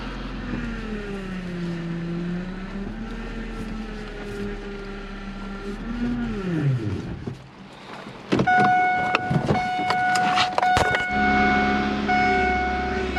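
Car with a freshly rebuilt engine, new pistons and a failing power steering, idling roughly with wavering pitch, sagging and nearly dying around midway before revving back up with clanks and whine.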